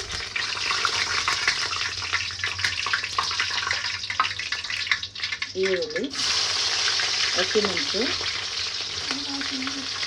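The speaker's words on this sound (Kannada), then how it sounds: "ಪಲ್ಯಗೆ ಸ್ವಲ್ಪ ಎಣ್ಣೆ ಹಾಕೋತಾ ಇದ್ದೀನಿ. ಎಣ್ಣೆಗೆ ಸಾಸಿವೆ," Mustard seeds and curry leaves frying in hot oil in a pan for potato palya, a steady loud sizzle with crackling pops throughout and brief stirring, heard alone without talk.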